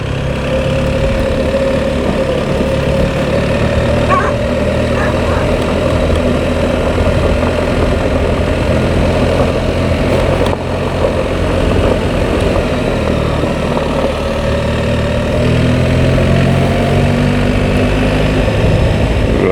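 Steady, loud engine drone of a BMW R1300 GSA motorcycle riding in second gear with the clutch pulled in through a left turn, a low continuous hum with gentle pitch drift and wind rush.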